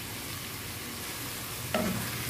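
Aromatics for ginisang monggo, a mung bean dish, are sautéed in a pan: a low, steady sizzle runs throughout, broken by one brief clatter of a stirring utensil near the end.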